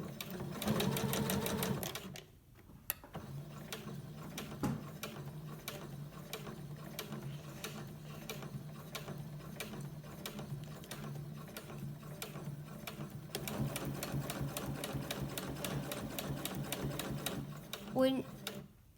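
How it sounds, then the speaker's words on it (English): A sewing machine stitches a fabric face mask in a steady, rapid mechanical chatter that runs close and loud for most of the stretch, with a short pause near the start. "start sewing."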